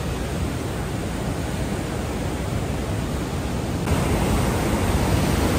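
Water released through the gates of the Teesta barrage near Siliguri, West Bengal, makes a steady, dense roar with no pauses, growing slightly louder toward the end.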